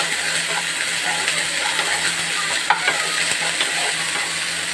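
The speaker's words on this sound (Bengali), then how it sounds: "একটু নাড়তে থাকবো, কারণ আদাটা তো চিটে যায় কড়ার সঙ্গে, তো অসুবিধে হয়।" Ginger paste fries in oil in a pan while a utensil stirs it, giving a steady close sizzle with scraping strokes against the pan over a few seconds.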